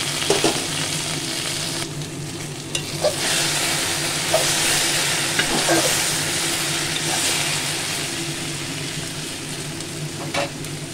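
A vegetable curry fries with ground salt, turmeric, chili, coriander and cumin, giving a constant loud sizzle broken by occasional scrapes and clinks of stirring, with a low hum beneath.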